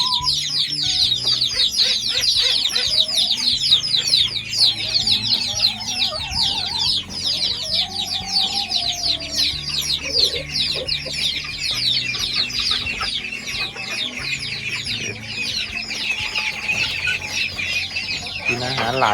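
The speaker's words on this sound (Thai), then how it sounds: "ไก่กำลังใหญ่แล้วนะครับ" Chickens clucking in a farmyard at a garden home on an overcast morning, a dense, close, continuous chorus of clucks and squawks that runs throughout, with some faint background sound under it.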